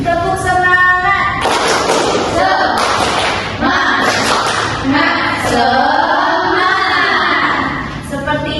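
Children in a Year 4 primary classroom perform a rhythmic clapping chant together, sharp group claps and shouted voices in a lively burst that fills the room.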